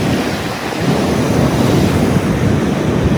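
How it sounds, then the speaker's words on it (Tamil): Ocean waves surge into a seaside swimming pool at a village on the Australian coast, a continuous close rushing wash of surf mixed with gusty wind noise, with no talking. "இங்கே பாருங்க எப்படி அலை வருத அதுல இருந்து அடிச்சு வர்ற அலை இதுல வருது அப்படியே"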